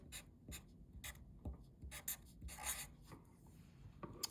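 A marker squeaks and scratches across a writing surface while tally marks are drawn, a series of short, close, quiet strokes at an irregular pace, with no talking.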